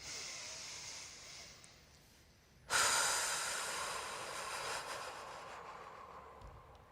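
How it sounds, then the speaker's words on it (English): Deep middle belly breathing demonstration: one long, airy breath opens with a sudden rush, then a steady hiss of air that slowly fades and swells again, close and alone in a quiet room. "Show us the middle belly breath."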